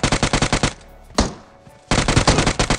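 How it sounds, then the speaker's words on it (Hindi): Rapid automatic gunfire from a UG gun in the PUBG battle royale game, two loud sustained bursts of evenly spaced shots separated by a single sharp crack and a brief lull. "अब यहाँ पर यूजी का इतना ज़्यादा फायर हुआ"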